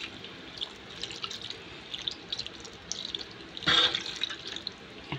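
Water trickles and drips into a pot in a quiet kitchen, with a brief louder splash near the end.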